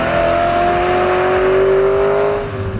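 BMW E92 M3 engine revving hard, a loud close-up sustained howl whose pitch holds high then drops away as the revs fall near the end, with no talk.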